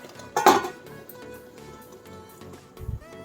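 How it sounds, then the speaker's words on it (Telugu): A metal lid set on a pot of lotus seed masala curry in a home kitchen, one sharp clink near the start followed by a softer clatter near the end, close by. "ఇప్పుడు ఒక రెండు నిమిషాలు మూత పెట్టి ఉడికించుకుందాం"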